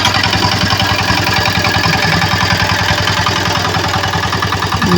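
A tractor with a rotary tiller working soil for a lawn, its engine running loud and close with a steady rapid throbbing rhythm and clattering overtones throughout.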